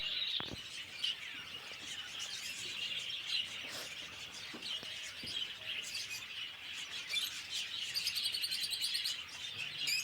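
A mixed aviary of white Java sparrows, Bourke's parakeets and lovebirds fills the air with continuous high chirps and tweets, many birds overlapping at once with a few sharper calls, nobody speaking.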